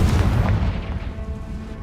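A Confringo blasting spell explodes in Hogwarts Legacy, a single heavy boom with a sharp attack that rolls off into a rumbling decay over about two seconds.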